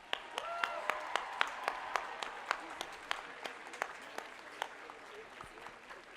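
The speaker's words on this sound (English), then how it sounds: "let me ask all of our graduates here to join me in applauding the friends, families, and supporters out there in the stands" Graduation crowd at a 2018 spring commencement applauding, a broad steady wash of clapping from stands with sharper individual claps standing out throughout, moderately distant and without talk.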